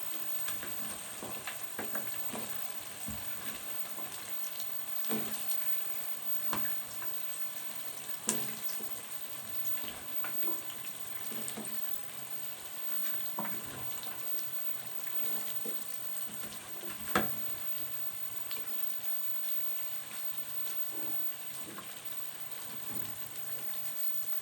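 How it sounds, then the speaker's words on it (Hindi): Potatoes frying in a pan with roasted tomato and yogurt, a steady soft sizzle running throughout with occasional pops and clicks of stirring, faint and even, no talk. "जी, टमाटर और दही की अच्छे तरीके से भुनाई कर दी है। अब हम इसमें आलू ऐड कर देंगे।"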